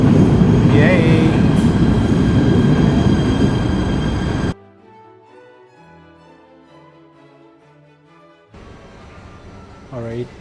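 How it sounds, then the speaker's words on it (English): Subway train in the World Trade Center station, loud rumbling arrival for several seconds, then a quieter interior hum with tonal whine before a loud burst of rumble and squeal returns near the end. "here is the train, WTC, World Trade Center."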